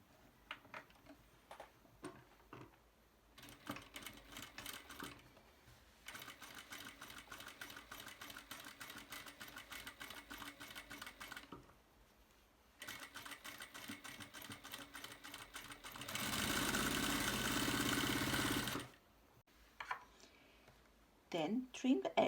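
A sewing machine stitches a summer dress collar, running in several spells of rapid even stitching separated by pauses, with a louder, denser burst near the end and a person talking in between.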